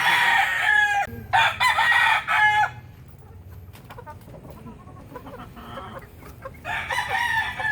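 Hens cluck and a rooster crows loudly nearby, with bursts of crowing at the start and again near the end, softer clucking in between.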